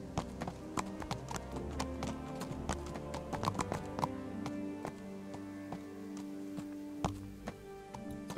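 Hooves clip-clopping as a horse walks in the video game Kingdom Come: Deliverance, a steady run of sharp, fairly faint taps over a low ambient background bed.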